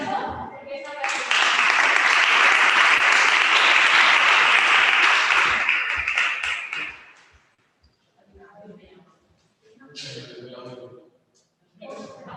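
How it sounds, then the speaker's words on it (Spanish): Loud, dense audience applause at a sexuality congress talk swells for several seconds and then fades, followed by a speaker talking over scattered sounds. "Así que fuerte aplauso porque esta clase."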